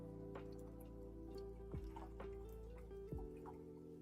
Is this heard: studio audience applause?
no